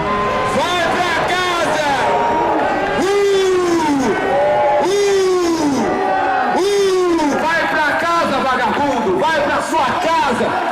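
A loud crowd at an outdoor political rally in Taubaté, Brazil, boos and jeers continuously, with drawn-out wavering voices rising and falling, dense and close throughout.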